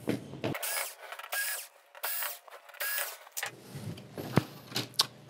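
Screws are backed out of the main board of a Samsung UN55JU6400F TV, giving a series of close, bursty mechanical whirs and creaks with small clicks between them and no talking.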